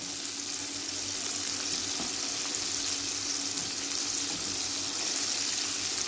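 Chicken fries in hot oil with a dense, continuous sizzle and crackle throughout, the pieces being turned over, no voices.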